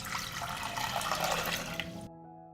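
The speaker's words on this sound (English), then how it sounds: "Pour over 1 liter of water." One liter of water poured over crushed eggshells in a pot, a steady close splashing gush that runs about two seconds and then stops abruptly.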